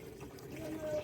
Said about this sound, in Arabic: سامعين الغساله بتعبي